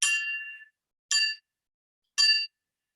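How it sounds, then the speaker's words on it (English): A simple wine glass struck with a fork or knife, giving three bright, clear rings: the first sustains longest, then two shorter tings follow about a second apart, each alone against silence. "and you can ting the glass"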